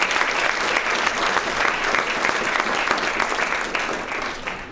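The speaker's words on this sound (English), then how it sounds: "So I would just like to give a round of applause to Hazem" Steady, dense audience applause at a university foundation presentation, many hands clapping continuously for the whole stretch at fairly even loudness, no talking over it.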